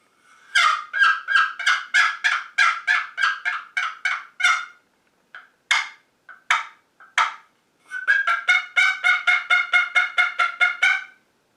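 A loud wooden or bone turkey call played in rapid series of sharp, rhythmic yelps, pausing briefly midway before resuming in another quick run of clucking notes.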